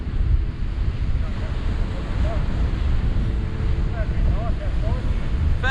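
Strong wind on the Lincolnshire coast at Chapel Point buffets the microphone in a constant roar, with surf and occasional distant bird calls mixed in outdoors.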